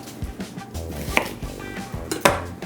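Kitchen knife with a dull tip cutting an onion on a board, giving a series of irregular close knocks and chops with a couple of sharper clacks, while pots and utensils clatter faintly in a home kitchen.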